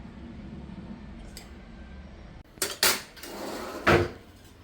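A pot for Kerala-style sardine fry set onto a stove and its lid closed, heard as a muffled shuffle followed by a couple of sharp metallic clanks and a scrape of the lid, close and fairly loud.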